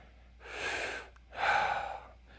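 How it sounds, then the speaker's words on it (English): Slow, deep breaths drawn into the belly while lying in the DNS three-month position, two long airy inhale-exhale swells close to the ear with no talk. "Just get used to breathing in this position."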